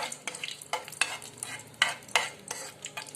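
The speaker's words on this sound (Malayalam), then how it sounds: "നമുക്ക് അണ്ടിപ്പരിപ്പ് ഇട്ടിട്ട് വറുത്തെടുക്കാം." Cashew nuts fry in a pan for a rava kesari, with repeated scraping stir strokes over a steady low sizzle, several sharp utensil scrapes standing out, close and clear with no talk.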